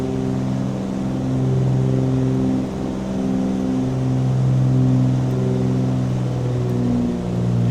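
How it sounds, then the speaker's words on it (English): Twin piston engines of a Cessna 414AW Chancellor in a flight simulator, a steady loud droning hum whose pitch and harmonics shift as the propellers are brought back to a lower RPM after takeoff. "You hear the change of the aircraft when I put the props 25 RPMs."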